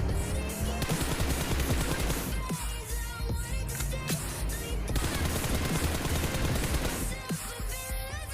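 Rapid gunfire from the video game PUBG Mobile rattles in dense automatic bursts with sharp single shots mixed in, loud and nearly continuous throughout.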